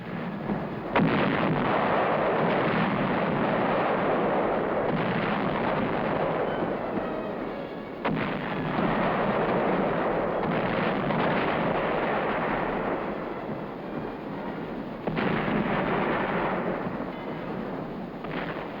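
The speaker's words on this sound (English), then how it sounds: "our artillery pounded and repounded the enemy defenses guarding San Pietro" WWII artillery fire pounding enemy defenses near San Pietro, heavy booming blasts at intervals of several seconds, each followed by a long rumbling roar, loud and sustained throughout.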